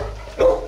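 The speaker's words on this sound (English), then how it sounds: "Like, listen to this one bark." A single gruff dog bark rings out nearby at a dog pound, one short harsh woof rising over a low background murmur of the kennels.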